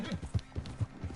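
Horse hooves in Red Dead Redemption 2 clip-clop in a quick, even trot, four or five muffled beats, close and fairly soft.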